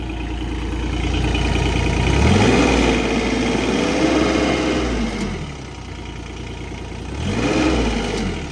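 Suzuki SCL1000 motorcycle engine under repair, revving up and easing back twice, a loud close mechanical drone rising and falling with the throttle.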